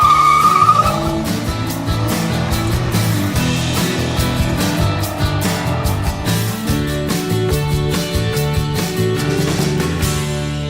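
A two-seater Corvette sports car accelerating hard, its engine roaring loud and close through repeated gear changes over several seconds, with no talk.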